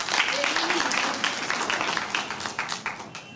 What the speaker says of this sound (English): it calls for a huge round of applause